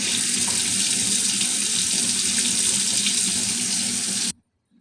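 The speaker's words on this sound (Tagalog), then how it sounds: "Hugasan natin ulit." Tap water runs steadily into a kitchen sink as raw chicken is rinsed under it, a constant close splashing rush that stops abruptly just before the end.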